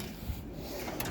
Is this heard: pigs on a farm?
no